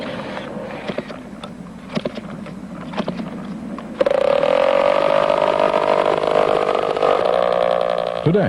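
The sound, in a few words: aircraft engine revving up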